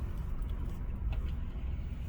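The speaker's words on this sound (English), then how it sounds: "Oh, traffic." Steady road traffic rumble on a road near Red Rock, a continuous low, even wash of passing cars heard from inside a slow-moving vehicle, with no talk.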